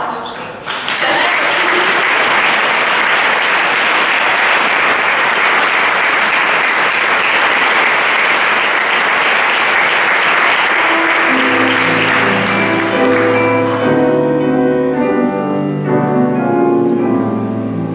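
An audience at a school choir concert applauds in dense, loud, sustained clapping for most of the stretch. A tonal musical sound rises as the clapping thins at the end.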